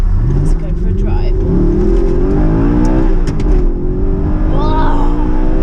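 A 2019 Audi R8 accelerating hard from inside the cabin, the engine note climbing through several rising sweeps as it revs up, loud and close, with occasional voices over the engine.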